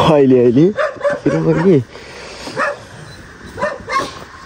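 A dog barks several times during an outdoor picnic in nature, loud and close at first with rising whining yelps, then fainter single barks further off.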